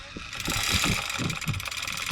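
A boat's anchor chain paying out through its windlass, a loud, close mechanical ratcheting with rhythmic clanks roughly every quarter second over a continuous grinding whir.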